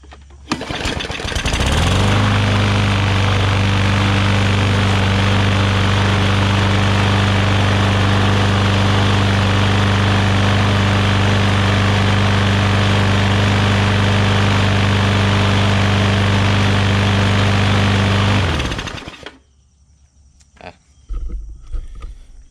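A push lawn mower that had water inside fires up after priming, going quickly from a short crank to a loud, steady droning idle close by, holding for about fifteen seconds before cutting off into quiet rustling and handling noises.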